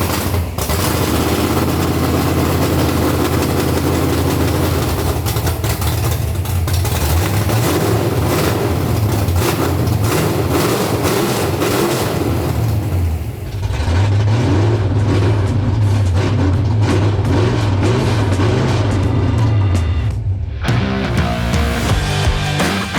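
A 1971 Ford Maverick engine runs loud through open headers, a rough continuous rumble close by with throttle blips and surges, a brief dip midway.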